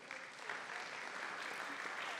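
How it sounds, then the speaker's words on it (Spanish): Audience applause fills a public forum on policies for women in Mexico City, a steady wash of clapping from a seated crowd, moderately distant and continuous without voices over it. "Fuerte aplauso, por favor"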